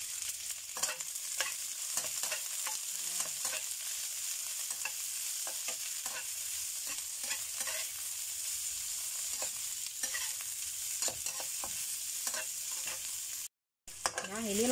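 Shallots, garlic and green chilies stir-fried in hot oil for a simple chicken dish: a continuous close sizzle with frequent scraping spatula strokes, a short dropout near the end.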